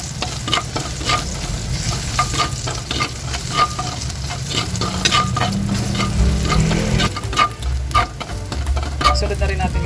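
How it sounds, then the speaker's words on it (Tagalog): Garlic sautéing in oil in a pan for pork menudo, a loud, continuous close sizzle broken by frequent scraping strokes of a spatula stirring throughout. "Dito na rin tayo guys magigisa at maglalagay lang tayo guys ng konti pang mantika. Lalagay na natin guys yung bawang."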